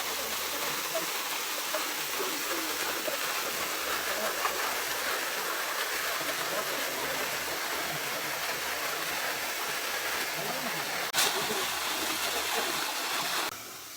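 Small waterfall near Kobe, Japan, running low, with clear water in the pool below. Its steady broadband rush of falling water holds evenly throughout at moderate loudness with no talk, and one brief sharper splash comes near the end.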